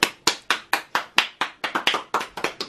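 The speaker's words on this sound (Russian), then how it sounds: "Хлопайте, пожалуйста." A small group at a children's shadow-theatre performance claps in a quick, uneven rhythm, sharp distinct hand claps close by, with no voices.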